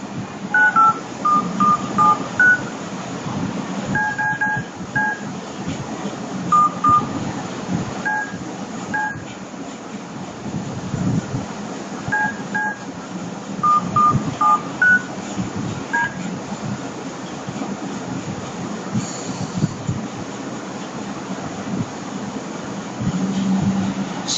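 A mobile phone gives off DTMF dialing tones while calling another phone, short beeping tone clusters in several bursts over a steady background hum.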